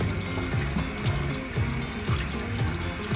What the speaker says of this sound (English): Let's wash in cold water.